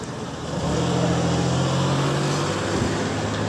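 An Echo CS-590 Timberwolf chainsaw engine holds a steady, loud high-RPM drone, rising in after a brief quieter start and sustaining evenly at close range with no talk.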